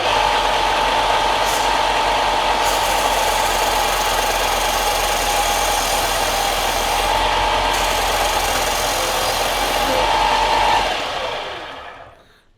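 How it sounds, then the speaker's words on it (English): Loud, steady grinding hum of a spinning abrasive disc with a Klingspor cleaning stick pressed against it and drawn across, a constant mechanical drone that stops and winds down near the end. "you basically apply a little bit of pressure on your cleaning stick and just gradually pull it across"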